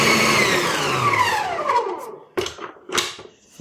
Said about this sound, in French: on va laisser pétrir ça pendant 10 minutes